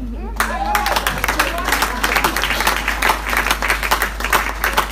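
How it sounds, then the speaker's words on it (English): Audience at a white wedding clapping in a lively, sustained patter of many hands, with voices talking and calling out over the applause throughout. "Find out for me the people clapping more."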